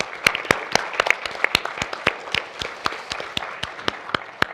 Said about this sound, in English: let me just take a second just to applaud the LABC team that have done such a great job putting this panel together